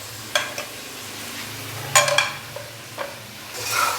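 Chopped tomatoes dropped into sizzling chicken karahi, with a few sharp clatters and bursts of hiss as they hit the hot pan, then a steady low frying sizzle and the scrape of stirring, close and clear with no talking.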